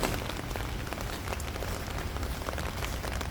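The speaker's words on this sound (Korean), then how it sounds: "비 엄청 많이 왔었어요 정말 여기도 많이 왔네요" Heavy rain falling on a rainy school day, a dense steady hiss of drops striking surfaces, loud and continuous throughout with no voices.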